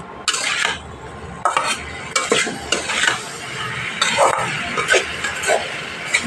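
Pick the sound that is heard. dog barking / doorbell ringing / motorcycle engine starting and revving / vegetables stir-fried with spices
vegetables stir-fried with spices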